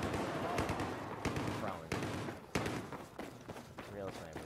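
Handgun gunfire in a video game, several sharp shots at irregular intervals ringing out amid busy game noise, with a player talking and exclaiming over it.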